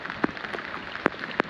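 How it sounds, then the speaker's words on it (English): Rain pours down during a bass fishing kayak tournament on Watts Bar Lake, a steady hissing patter with a few louder drops striking close by. "It's pouring rain."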